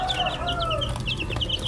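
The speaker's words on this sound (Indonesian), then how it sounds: "Ini hanya ayam biasa ya." Indonesian native kampung chickens, three weeks old, cheep and cluck close by in a rapid run of short calls over low background noise.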